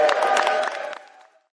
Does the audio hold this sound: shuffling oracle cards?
no